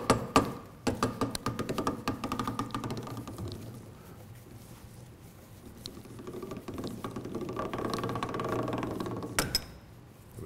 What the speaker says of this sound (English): This one is coming off by the sheer power of the Kuko puller.